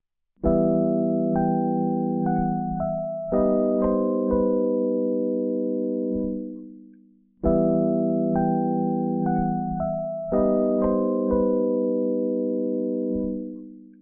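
A short minor-key chord progression using the augmented III chord from the harmonic minor, played twice on a sustained keyboard-like instrument, each pass ringing out and fading before repeating.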